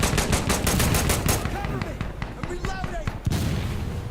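Rapid automatic gunfire from the shooter video game Sandstorm rattles loud and close in dense bursts, then thins into scattered shots with a voice talking partway through.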